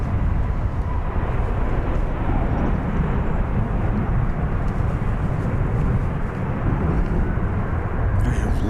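A PSA airliner at DFW Airport passing by, a loud continuous low roar of jet engines that holds steady and fills the whole stretch without a break.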